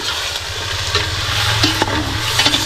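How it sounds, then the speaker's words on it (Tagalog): Food sautéing in a pan, a steady close sizzle and hiss with scattered scraping and stirring knocks from a utensil throughout. "Ayan na po yung ating ginigisa."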